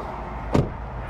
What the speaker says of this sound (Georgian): კარების ხმა შეხედეთ.